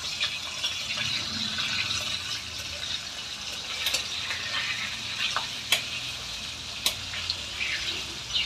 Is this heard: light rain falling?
no